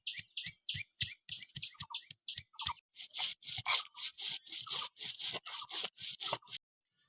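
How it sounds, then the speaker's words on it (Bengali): Ginger, coriander and cumin are ground together into a paste, with rapid rhythmic scraping strokes, first in short separated bursts and then in a faster, denser run, close and fairly loud with no talking. "এবার আমি আদা, ধনে আর জিরে একসঙ্গে বেটে নেব।"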